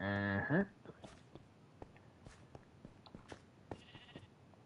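A single Minecraft sheep bleats loudly and close at the start, followed by quiet game clicks and faint taps.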